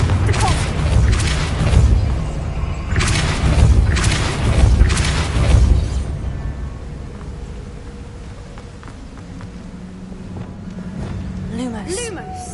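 A Confringo blasting spell detonates in Hogwarts Legacy, giving several loud booming bursts in the first half, then the noise fades to quieter ambience with faint chirps near the end.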